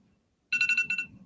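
A phone alarm going off in a quiet courtroom, a sudden bright repeating electronic tone pulsing rapidly for under a second, loud and close, with no one speaking over it.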